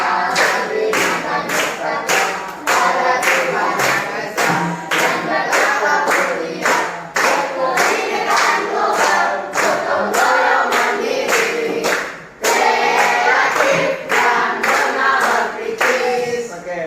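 A group claps hands together in a steady, lively rhythm along with singing, continuous and close, with brief voices mixed in and a short pause near the end.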